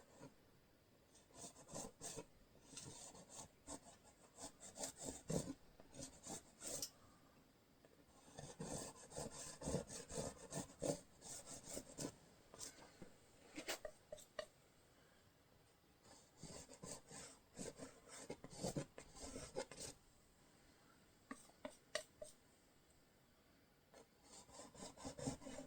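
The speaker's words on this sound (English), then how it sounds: "Just scrubbing in a little bit of land." A paintbrush scrubbing paint onto canvas for a fantasy forest landscape, a dry raspy rubbing in repeated back-and-forth strokes, close and fairly quiet, alone with no talk.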